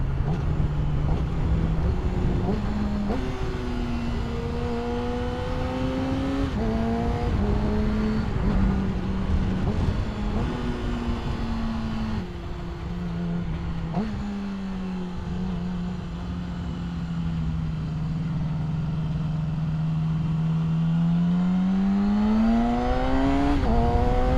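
A motorcycle accelerates hard through several clutchless gear shifts, its engine pitch climbing steadily, then dropping sharply at each shift before rising again, loud and close throughout.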